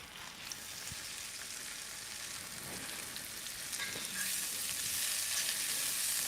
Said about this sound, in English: Them onions are sounding nice.